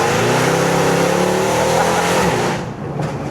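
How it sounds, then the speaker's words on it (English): A Mercedes C63 AMG with aftermarket headers revs hard and steadily for a few seconds, rising in pitch, then drops off with a crackle as the throttle lifts. "this car's not even tuned yet, and it's like popping and banging"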